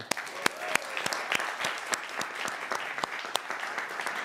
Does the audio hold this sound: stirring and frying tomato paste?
no